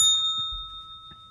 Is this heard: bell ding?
yes